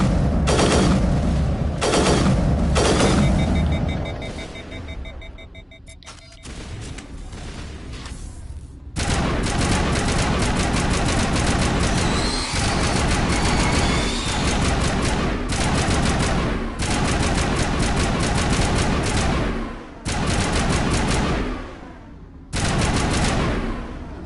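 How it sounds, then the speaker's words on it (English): Gunfire from an overheating weapon in Mass Effect Legendary Edition rattles in long loud bursts, pausing around six seconds and again near twenty as the gun cools, then resuming with dense, continuous firing. "We're doing damage to him, but I'm just overheating the gun too quickly."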